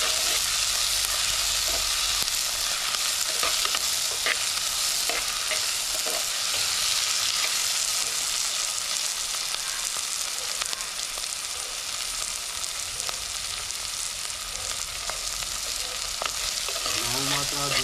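Green chillies are stirred in oil in a frying pan in a home kitchen, giving a continuous close sizzle with scraping and stirring scrapes throughout, no talking audible.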